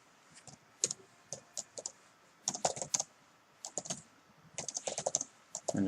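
C++ code is being typed on a computer keyboard in quick irregular bursts of crisp key clicks, with brief pauses between runs, close and fairly quiet.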